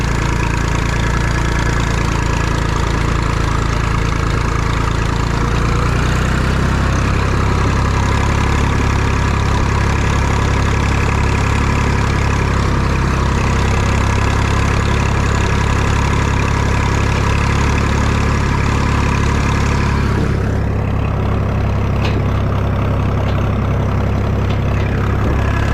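A tractor engine hauls up a steep hill on foot throttle, a loud, steady, low drone that holds for about twenty seconds, then drops in tone near the end, with no talk over it.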